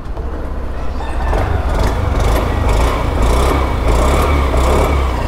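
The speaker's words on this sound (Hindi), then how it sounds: "एग्जॉस्ट नोट आपको मैं सुना दिया" A 2023 Honda Dio DLX scooter engine starts and settles into a steady, loud, buzzing idle with rhythmic pulsing revs close by.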